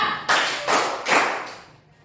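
A group of people performs the Indonesian 'tepuk 3' clap pattern in a classroom: three loud, evenly spaced bursts of clapping, close by, fading at the end.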